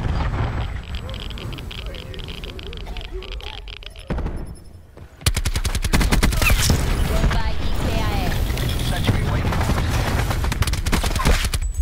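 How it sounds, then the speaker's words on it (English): Cluster grenades go off in Black Ops 4 as a rapid string of loud, close bursts after a short lull. Quieter game noise comes first, then a dense volley of detonations fills the rest. "Cluster grenade."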